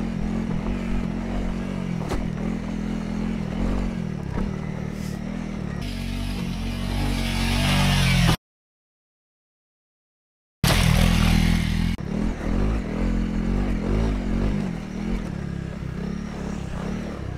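A Honda CRF300 enduro motorcycle with Rally-Raid suspension ridden around a track: a continuous rough engine drone rising and falling with throttle and clattering over bumps, broken by a brief total dropout midway before the ride resumes.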